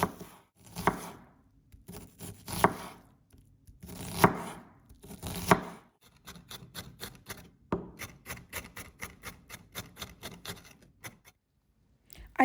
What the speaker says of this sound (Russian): Мелко-мелко режем лук.